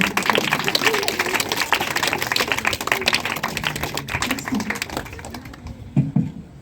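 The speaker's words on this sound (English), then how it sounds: "give a big clap" An audience claps for a student at a school annual day celebration, producing a dense, sustained patter of many hands that fills the room and fades toward the end, with brief voices at the close.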